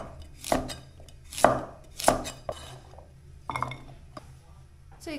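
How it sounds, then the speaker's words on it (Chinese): A kitchen knife chops carrots into roll-cut chunks on a board, sharp separate knocks spaced irregularly about a second apart, close and crisp with a faint hum between strikes. "切成滚刀块"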